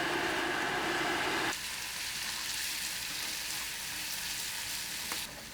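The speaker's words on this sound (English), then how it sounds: "Tossing in the kimchi." Kimchi frying in a tilted pan with garlic and sesame oil gives a loud, steady sizzle that drops abruptly to a softer crackle partway through, with no talking.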